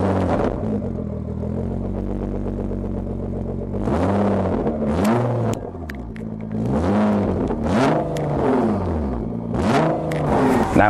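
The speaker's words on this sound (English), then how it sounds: "Nissan GTRs have that distinct sound that Nissan creates, and I love this car, especially because of that exhaust note" A Nissan GT-R with a 3.8-liter twin-turbo V6 sends out its exhaust note: a steady drone, then a series of rising and falling revs, loud and close, with no talking over it.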